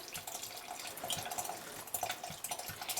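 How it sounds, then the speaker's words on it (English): Vinegar being poured over herbs into a jar, a steady close trickle and splash of liquid with small bubbling drips throughout. "So I'm going to just pour it right over my herbs and get that jar topped off."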